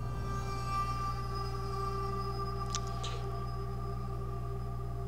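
A dark, eerie horror-style background ambience plays as a steady droning bed with sustained tones and a brief shimmering accent partway through, moderately loud, with no voices.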